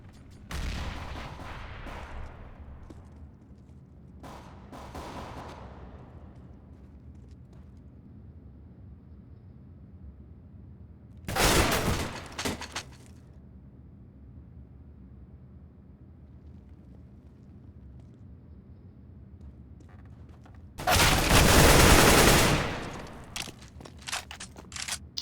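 Bursts of gunfire in the competitive shooter CS:GO, two loud broadband volleys of about a second each standing out over a low steady background rumble, with fainter shots earlier.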